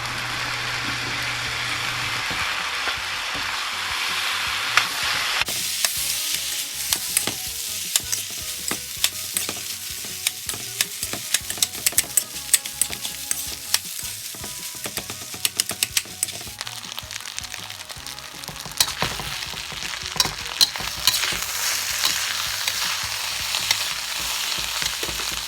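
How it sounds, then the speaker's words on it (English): Rice being stirred and fried with chopped chicken and other ingredients in a pan, a continuous loud sizzle with repeated scraping and clattering of the utensil against the pan, with no talking. "After you have finished mixing all of that rice in with those other ingredients"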